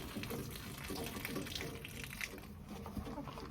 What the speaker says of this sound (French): Attendez, je vais vider un peu l'eau.